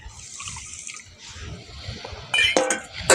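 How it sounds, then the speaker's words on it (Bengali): Water pours into a pan of sugar, a soft trickle at first and then a louder splashing burst near the end, with no talk. "আমি এক বাটি চিনি দিয়েছি তার মধ্যে এক বাটি জল দিয়ে দিচ্ছি"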